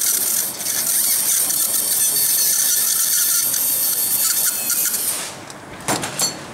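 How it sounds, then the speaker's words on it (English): A surgical burr drills into a saw bone model during thoracic pedicle screw practice, giving a steady, loud high-pitched grinding whine that runs for about five seconds, then cuts out with a few short bursts near the end. "I use the burr."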